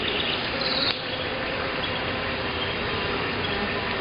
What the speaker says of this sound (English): She's a pretty big bee.